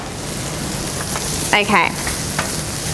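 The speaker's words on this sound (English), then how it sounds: "so make sure you stir your rice as soon as you put it into your frying pan with the onion" Risotto rice and onion fry in a pan, giving a close steady sizzle broken by a few short scraping stirs; a voice briefly speaks over it.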